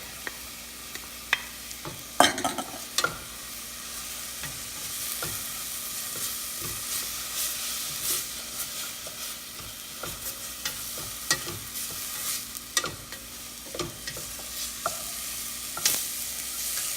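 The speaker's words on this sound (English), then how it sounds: "Cook the onion for 1 minute. Okay, put our garlic." Onion and garlic frying in a pan for lechon sauce, a steady sizzle broken by repeated spatula scrapes and clinks against the pan, no speech.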